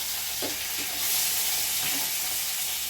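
Finely chopped onions saute in a pan for bitter gourd kuzhambu, producing a dense steady hiss that swells briefly as they hit the oil, with a few soft stirring scrapes underneath.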